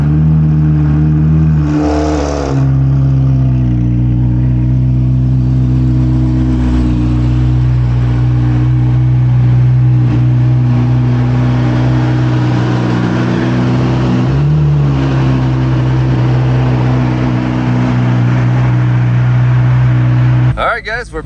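Chevrolet Corvette C8 Z06 engine droning steadily inside the cabin while driving, a loud constant low hum with a brief rise in revs near the start and a slight shift midway, under occasional talk.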